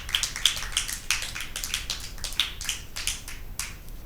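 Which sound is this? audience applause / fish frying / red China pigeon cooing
audience applause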